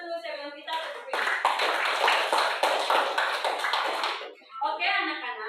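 A school class claps together for about three seconds, a brisk, fairly close round of applause that comes between stretches of someone talking.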